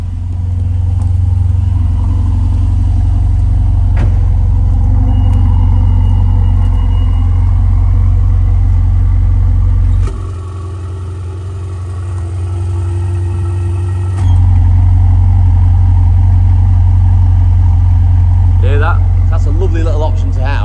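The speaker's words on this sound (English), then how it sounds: "these buttons here, you can actually open the exhaust" A 2017 Ferrari 488 GTB engine idles with a deep, steady rumble; the tone briefly drops and then returns louder and fuller as the exhaust valves open, with no talking.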